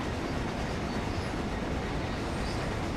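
A Class 66 EWS freight locomotive in Train Sim World on the Great Western Express route runs under braking, giving a continuous low rolling rumble of wheels on rail at moderate level with no talk.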